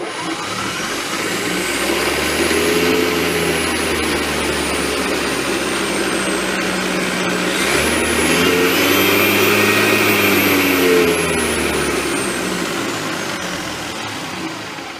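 An electric vehicle motor bench-tested through a VW transmission in reverse winds up, a loud whining hum rising steadily in pitch as it accelerates, with a brief dip before climbing again, close and with no voices.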